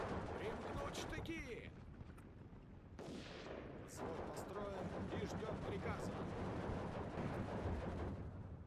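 Mortar and artillery fire in the WWII strategy game Steel Division 2 during a Soviet campaign in the Baltics: dense, continuous booms and crackling blasts rolling on, with speech underneath.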